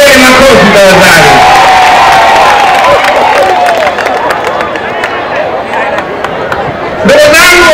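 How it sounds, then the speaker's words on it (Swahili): A large crowd at a CCM political rally in Temeke applauds and cheers loudly and continuously, dense clapping and hubbub with voices shouting through it. "jipigeni makofi tafadhali"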